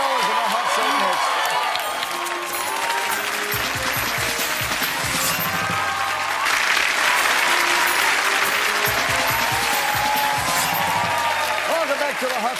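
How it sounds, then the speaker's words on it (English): Sustained applause from a TV game show studio audience on a million-dollar quiz set, loud and dense, with cheering and a few voices mixed in and a brief swell partway through. "Give her a big round of applause, everyone."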